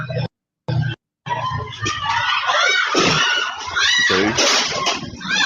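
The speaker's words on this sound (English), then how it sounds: "the people are screaming" People scream and shriek in panic at a motorbike crash, a loud, continuous jumble of high cries after brief choppy bursts at the start.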